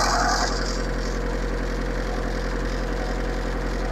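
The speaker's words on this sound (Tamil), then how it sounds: "வண்டி சவுண்டு கேட்டிங்களா என்னன்னு தெரியல" Tata Sumo Grande diesel engine running close by with a steady, even mechanical rumble and vibration, slightly louder for the first half second and then holding constant.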